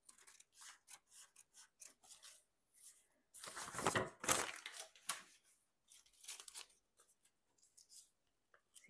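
Scissors snip through paper being cut out for a journal made from a repurposed leather pouch, a string of short close crisp cuts with rustling and a louder burst of handling in the middle.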